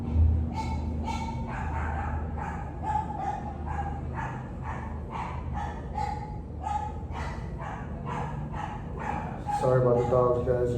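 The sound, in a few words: dogs barking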